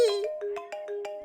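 A mobile phone ringtone plays alone as a short melodic electronic tune, each note ringing in a steady sequence.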